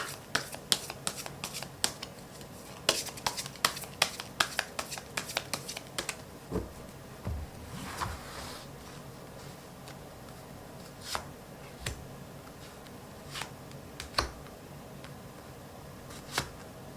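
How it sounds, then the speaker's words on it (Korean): Tarot cards being shuffled and drawn: a dense run of crisp card riffles and snaps comes first, then it thins to occasional soft slaps and flicks as cards are laid down. "추가 카드를 뽑아볼게요"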